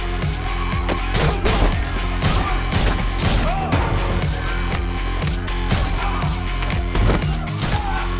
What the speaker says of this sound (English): oh no, John Wick's been shot